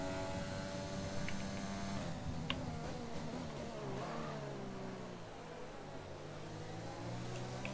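A Formula 1 car engine in the racing game F1 2020, screaming at high revs during an overtake, pitch sliding down and back up as it shifts and accelerates, loud and continuous with no talk.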